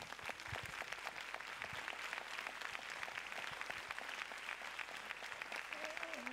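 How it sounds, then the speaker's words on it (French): Dense applause fills a screening-hall crowd as a filmmaker is welcomed, steady clapping throughout at a moderate distance, with a faint voice emerging near the end. "Je vous demande d'applaudir monsieur Yann Arthus-Bertrand."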